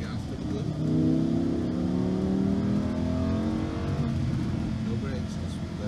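Car accelerating hard on the Speed Vegas racetrack, engine note climbing in rising harmonic sweeps, loud and close throughout, with a driving instructor's voice talking over the engine.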